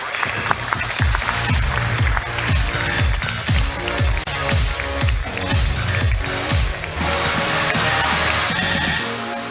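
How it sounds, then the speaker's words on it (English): Steady applause and cheering from an audience at a car reveal event as the Alpine endurance team comes onto the stage, loud and continuous, with a rhythmic low thumping running underneath. "Give them a huge round of applause."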